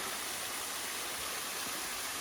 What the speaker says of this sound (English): we get rewarded with a beautiful little waterfall